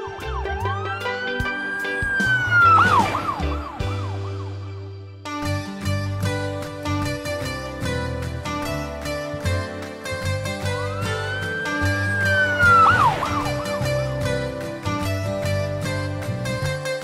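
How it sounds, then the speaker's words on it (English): Takara Tomy Tomica toy police car siren playing loud electronic wailing sweeps with a repeating tinny melodic pattern, cycling twice in close succession with no talk. "Police car."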